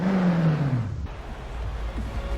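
A 2020 Koenigsegg Jesko drives in the racing game Forza Horizon 4, its loud engine note sliding downward in pitch before settling into a low, rumbling drone.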